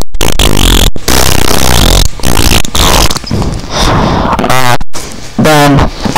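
A voice imitates farting with a run of sputtering, buzzy bursts, loud and close, broken by short pauses over about six seconds.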